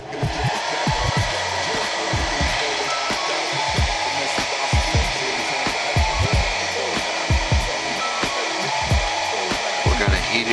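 A hair dryer rig runs steadily to heat and soften the pin joint of a GI Joe action figure, a loud continuous blowing whir with faint clicks and handling knocks throughout.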